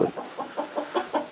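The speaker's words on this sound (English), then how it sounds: "the zillion chickens that are running around in here, and ducks" Chickens clucking in a farm barn among goats and ducks, a steady run of about eight short clucks, fairly close, with no other voices.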